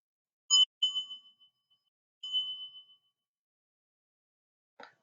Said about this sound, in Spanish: Observa la vibración de la campana en el cuerpo